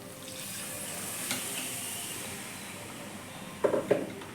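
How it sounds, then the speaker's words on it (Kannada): Masala frying in a pan for keema sambar sizzles steadily up close, then water poured in near the end sets off a louder burst of hissing and bubbling, with no one speaking. "ಸಾಕು, ಇಷ್ಟು ಫ್ರೈ ಮಾಡ್ಕೊಂಡ್ರೆ ಇವಾಗ ನೀರು ಹಾಕೋತಾ ಇದ್ದೀನಿ."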